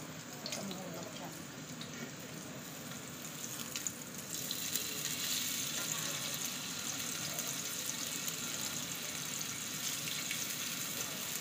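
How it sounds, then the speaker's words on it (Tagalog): Tofu frying in a non-stick-free pan for a simple home dinner, a steady broadband sizzle that runs throughout and grows slightly louder and brighter midway, with faint background noise and no clear talk. "Piniprito ko lang yung ating tokwa."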